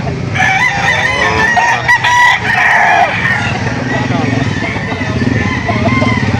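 Chickens and roosters crow loudly and repeatedly at a livestock poultry auction market in Lipa City, Philippines, with clucking around them and people talking nearby.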